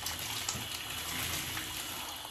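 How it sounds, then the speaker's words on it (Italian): Cold or lukewarm water poured over curly hair to wet it, a steady soft splashing and trickling flow that continues evenly throughout, close but fairly quiet. "vado a bagnare i capelli con l'acqua"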